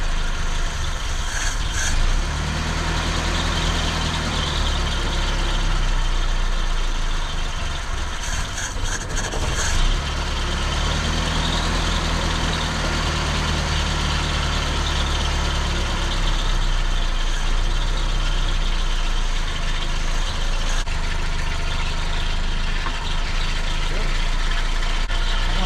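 An old Chevy Vega engine idles low and rough at close range for a long stretch, a steady rumble with occasional scraping and rattling, and people talk throughout.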